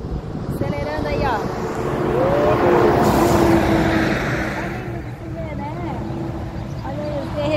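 Cars and trucks accelerate and pass on a highway during a storm, engines rising and falling close by over steady road noise while someone talks over them.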